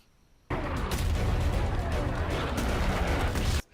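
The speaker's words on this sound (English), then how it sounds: "Rapid gunfire!" Dense, continuous gunfire and explosions in the video game ARK roar loudly for about three seconds, then cut off abruptly, with a voice shouting over the din.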